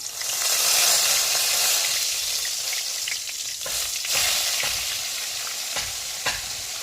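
Onion paste frying in a pan of hot oil, giving a steady, close sizzle with a few scraping stirs along the way and no voices.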